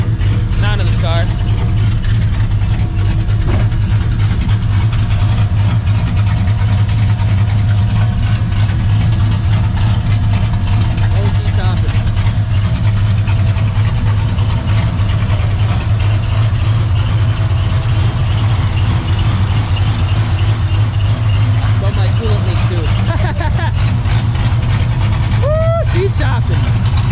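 A 1999-2004 Ford Mustang GT V8 with an aftermarket exhaust idling steadily, a loud low rumble held throughout with a radiator fan running and small revs or noises near the end.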